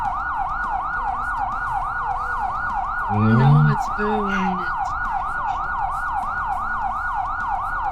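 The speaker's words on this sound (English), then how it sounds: "Now I hear sirens." A wailing emergency vehicle siren rises and falls steadily out in the street, sounding continuously at moderate distance while a voice briefly speaks over it midway.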